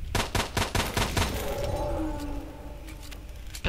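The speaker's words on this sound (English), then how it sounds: "I'm trying to kill it with my M1911" An M1911 pistol fires in S.T.A.L.K.E.R. Shadow of Chernobyl, a rapid string of about eight loud, close shots followed by a fading ringing tail and one more shot near the end.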